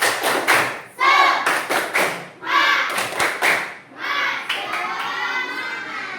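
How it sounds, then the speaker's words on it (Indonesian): A group in a teacher training session claps a rhythmic spirit clap, loud bursts of sharp claps in patterned beats, then the group chants together in unison. "Tepuk semangat."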